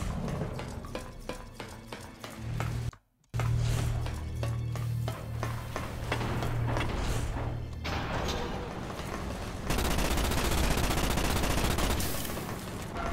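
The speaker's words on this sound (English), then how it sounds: "if you have unlimited bullets, might as well shoot into an empty room" Continuous gunfire from the Starship Troopers video game, a steady stream of rapid shots broken by a brief silence, then resuming loud and dense with heavy low thumps underneath, no voices.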